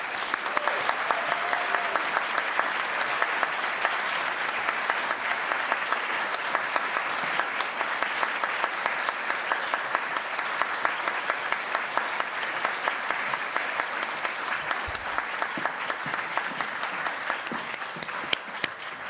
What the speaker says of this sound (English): Please join me in giving our 2018 Presidential Rank Award recipients a round of applause